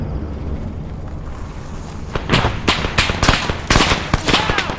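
Video game gunfire in Arma 3, a series of sharp cracking shots in bursts over a constant rumbling vehicle and wind-like background, moderately loud and close.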